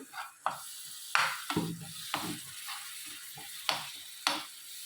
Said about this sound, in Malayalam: ഇതിൻ്റെ പച്ചമണം മാറുന്നവരെ നന്നായിട്ട് ഒന്ന് ഇളക്കി കൊടുക്കണം.